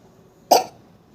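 A young girl gives a single short cough up close in a quiet indoor room.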